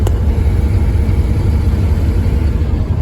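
A Plymouth Slant 6 engine with a three-on-the-tree manual running on a first test drive, a loud steady low rumble held throughout with no talking.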